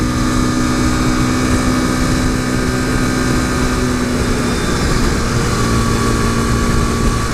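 A modded 2015 KTM RC 390's single-cylinder engine drones loud and steady at a constant pitch, mixed with heavy wind rush from riding, and holds an unbroken tone throughout with no talking.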